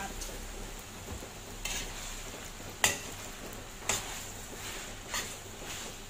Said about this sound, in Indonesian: Saya sudah masukkan spagettinya di atas, saatnya kita mengaduk ya.